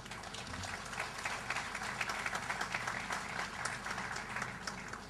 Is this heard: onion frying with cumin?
no